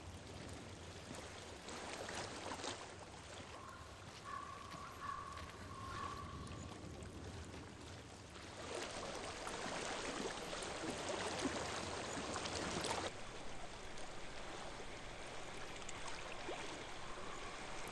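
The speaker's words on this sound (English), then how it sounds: "I hear water." Flowing stream water in the video game Hellblade: Senua's Sacrifice, a steady broadband rush that grows louder partway through and runs alone without talk.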